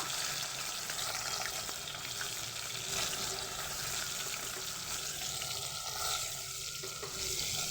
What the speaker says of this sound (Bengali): চিংড়ি মাছগুলোকে বেশি ভেজে নেবো না সবগুলো চিংড়ি মাছ দিয়ে দেব